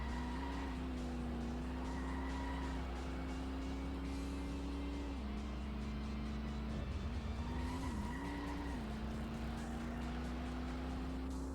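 A car engine drones steadily in the Xbox racing game Apex, its pitch holding level and then dipping and rising briefly as the car slows and accelerates, with no talking.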